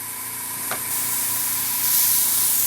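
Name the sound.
Tamiya Spray Work HG airbrush spraying paint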